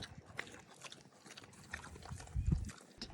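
Fancy show pigs grunting on a farm, with soft, low, scattered grunts over faint background noise and a louder snuffling grunt toward the end.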